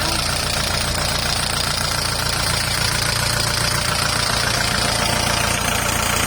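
A used Thai walking tractor with a DI engine idles in a steady, close, loud drone, with low knocking pulses running evenly throughout and no talk.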